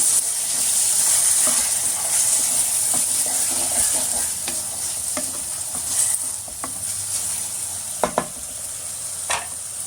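Tomato being stirred into oats upma in a pan, giving a steady close sizzle and fry hiss with scraping stir strokes and a few sharper clinks near the end, no talking.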